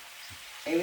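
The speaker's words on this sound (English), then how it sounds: "The fried fish is going in there now. Okay. On that sizzling sweet onion and green bell peppers." Fried fish laid into a pan of sweet onion and green bell peppers, a brief low sizzle that swells louder near the end of the short moment.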